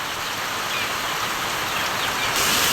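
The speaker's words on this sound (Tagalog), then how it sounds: "Iwan ko kung kailan titigil ang ulan ito." Heavy rain pours steadily during a flood behind a house, a dense, even hiss of downpour that fills the whole stretch with no one speaking.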